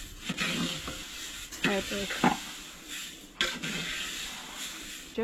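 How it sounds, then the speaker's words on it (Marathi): Goan garam masala spices stirred and roasted in a pan on a stove, a large batch: repeated scraping stirs over a steady soft sizzle and hiss, with faint talk in the background. "परतून परतून अशें ते भाजून घेवंक जाय"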